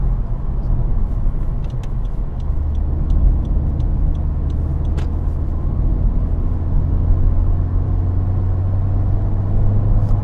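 A Honda Civic Type-R FK8 holds about 2,000 RPM under throttle in comfort mode, producing a steady low engine rumble and road drone from inside the car, with faint ticking clicks layered over it.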